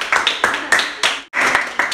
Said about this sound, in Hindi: तालियां भाई, तालियों में कंजूसी नहीं यार।